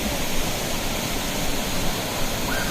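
Thalakkuthu waterfall roars in a steady, dense rush of falling water, loud and unbroken across the whole stretch with no voices.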